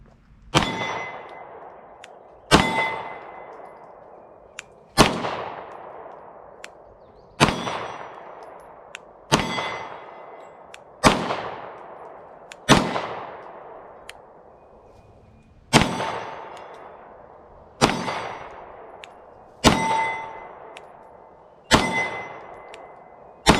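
Canik TP9 Elite SC subcompact pistol fired at a steel target: about a dozen sharp shots at a steady pace, each followed by a ringing metallic clang that fades out, loud and close, with no talking.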